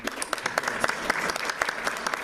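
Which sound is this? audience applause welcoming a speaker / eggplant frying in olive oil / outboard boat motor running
audience applause welcoming a speaker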